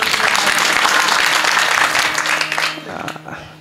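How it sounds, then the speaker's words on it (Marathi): Audience applause at a Marathi kirtan, a loud dense burst of clapping that holds steady and then fades out over the last second. "एकदा गायक वादकासाठी जोरदार टाळ्या झाल्या पाहिजे"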